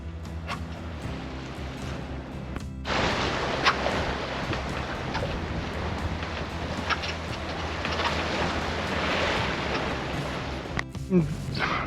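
A Bavaria 38 sailboat surfs down a wave, with a loud, steady rush of water and wind that starts abruptly, holds for about eight seconds with small splashy peaks, then cuts off.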